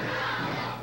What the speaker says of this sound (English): And you can hear the crowd picking up the chant,